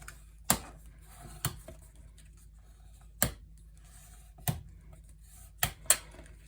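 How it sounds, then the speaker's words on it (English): Paper is folded and burnished for a mini album cover, giving six sharp, close taps and creases at irregular intervals over a quiet background. "Then I'm going to fold over on both of these and burnish."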